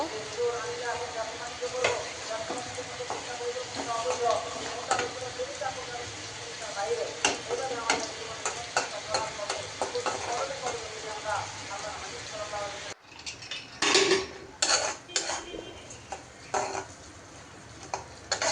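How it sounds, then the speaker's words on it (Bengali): Garlic and dried red chillies fry in a pan with a steady crackling sizzle and irregular ticking pops, close and continuous, while a person talks over it and a louder clattering burst comes near the end. "এখন আমি রসুন আর শুকনা মরিচ ভেজে নিচ্ছি"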